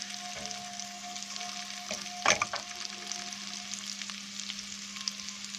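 Garlic sautéed lightly in a pan for moussaka gives a soft, steady sizzle up close, with a few louder stirring scrapes midway and a constant low hum underneath.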